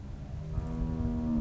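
A cow in The Walking Dead video game gives one drawn-out, rising moo, close and clear, lasting over a second.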